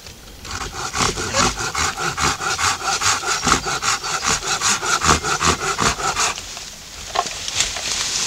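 A Silky survival saw with larger teeth cutting a wood branch, with a loud, rhythmic back-and-forth rasp of about two dozen quick strokes that slows and stops near the end, and no talking.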